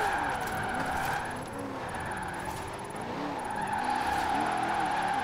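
A 1968 Firebird drifts in the video game Forza Horizon 5, its tires squealing continuously with wavering pitch over a steady engine drone, loud and close throughout.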